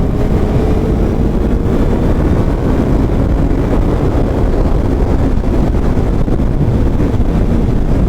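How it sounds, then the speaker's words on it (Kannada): Heavy, constant wind roar buffeting a motorcycle helmet at speed, the helmet shifting side to side, a loud low rumbling blast with no pauses throughout. "ವಿಂಡ್ ಬ್ಲಾಸ್ಟ್ ಅಂತೂ ಸರಿಯಾಗಿದೆ ಹೆಲ್ಮೆಟ್ ಆ ಕಡೆ ಈ ಕಡೆ ಮೂವ್ ಆಗ್ತಾ ಇದೆ"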